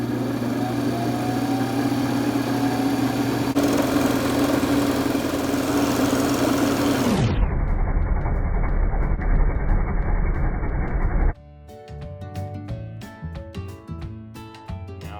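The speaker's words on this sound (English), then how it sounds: "So let's go ahead and turn the lathe on and get turning." A wood lathe runs while turning a pen blank of ancient bog oak, a loud steady motor hum that drops in pitch as it changes speed, then gives way to lighter clicking and handling sounds.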